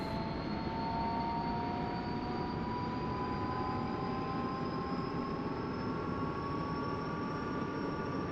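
SA342 Gazelle helicopter turbine engine spooling up in a flight simulator, a steady whoosh with a slowly rising high whine, continuous and fairly loud, no voices.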